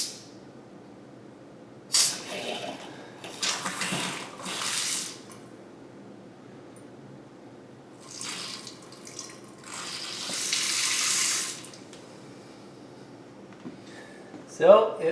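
Water bursting from a newly installed pot filler faucet in fits, several hissing spray bursts of a few seconds each separated by quiet gaps, close and fairly loud.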